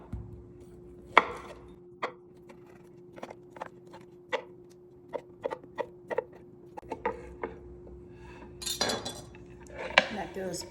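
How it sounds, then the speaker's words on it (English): Polish kielbasa sliced with a knife on a cutting board in a home kitchen, a series of crisp, irregular chops and taps, close and fairly quiet, with a faint steady hum in the background and no talking. "I've got some Polish kielbasa here. Just gonna cut these up."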